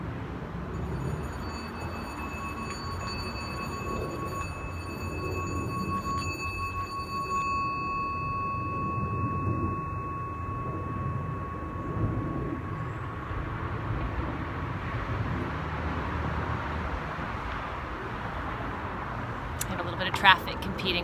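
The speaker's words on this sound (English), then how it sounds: "Traffic competing with the singing bowl, but that is okay." Metal singing bowl ringing with a sustained, slowly fading tone, heard indoors while steady road traffic rumbles loudly underneath throughout, with a brief clatter near the end.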